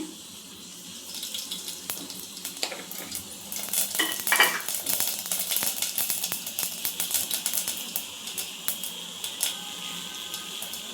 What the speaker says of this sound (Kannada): ಎಣ್ಣೆ ಕಾದಾದ್ಮೇಲೆ ನಾನು ಇಲ್ಲಿ ಸ್ವಲ್ಪ ಸಾಸಿವೆ ಹಾಕ್ಕೊಳ್ತಾ ಇದ್ದೀನಿ